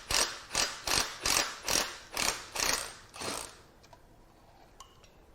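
Ratchet wrench loosening an exhaust manifold bolt on a GM 3.6L SUV engine, seven or eight loud, close, evenly spaced ratcheting strokes that stop abruptly, followed by faint clinks and quiet.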